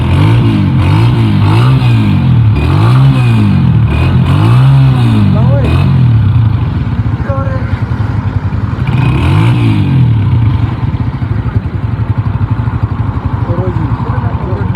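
Brand-new 2024 Honda CG125 motorcycle engine, close up: several rising and falling revs in the first half, then a steady, thumping idle.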